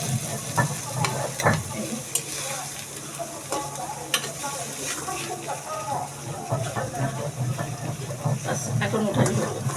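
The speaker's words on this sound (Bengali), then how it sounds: "হালকা একটু এপিট ওপিট ভেজে দিলাম।" Hilsa fish sizzles and spits in hot mustard oil in a pan, a steady crackling fry with occasional sharp pops and scraping as the pieces are turned.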